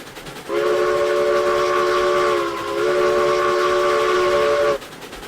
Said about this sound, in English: More about the sound of the loco than it was anything else.